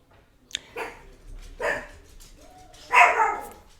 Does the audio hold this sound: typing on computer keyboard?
no